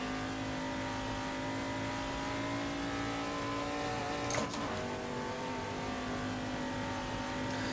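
Racing-game car lapping the Nürburgring, its engine holding a steady high drone with strong harmonics, briefly shifting pitch as gears change midway, loud and continuous with no voices.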